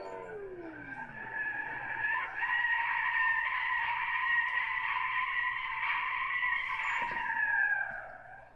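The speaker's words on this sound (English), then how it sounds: "Let's do a handbrake stop now." A car in Gran Turismo 6 makes a handbrake stop. Its tires let out a loud, sustained skid squeal that sweeps in and holds steady for several seconds before cutting off.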